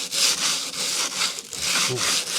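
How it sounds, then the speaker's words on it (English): Sandpaper rubs over a cheap axe being refinished, making loud, close, rhythmic back-and-forth scratching strokes about every quarter second. "Then you go over with sandpaper."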